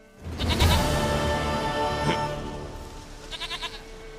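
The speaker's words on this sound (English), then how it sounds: "Here is your goat." A goat in The Witcher 3 bleats loudly in a long, wavering call, then gives a fainter, shorter bleat a moment later over soft game ambience.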